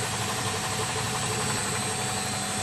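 Single stage air compressor running steadily at 1,400 RPM, a dense, even mechanical drone with knocking vibration, continuous and close, no talk.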